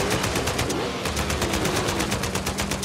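Rapid automatic gunfire from an Uncharted 4 firefight during the Kings Bay escape, a steady stream of loud shots in quick regular bursts lasting throughout.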